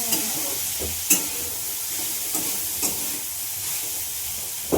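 Cluster beans sautéed with salt in an iron kadai, a gentle steady sizzle broken by a few sharp stirring scrapes at irregular intervals, close and without speech.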